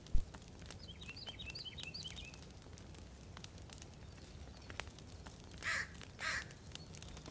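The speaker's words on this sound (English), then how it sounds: "Definitely hear a crow" Crow cawing in The Forest video game, a few distant harsh caws around the middle with two louder, nearer caws near the end over a low ambient night-forest background.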